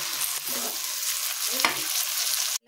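Okra stirred with turmeric in a wide kadai, a steady close sizzle of frying with soft scraping stirs throughout, cutting off abruptly at the end.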